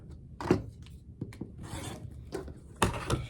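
Quilting fabric scrap trimmed down to 4 inches, giving a few short, close rubbing and scraping cuts spaced irregularly, with quiet handling noise between them and no talking.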